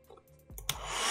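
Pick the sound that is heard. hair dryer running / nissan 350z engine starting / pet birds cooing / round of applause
hair dryer running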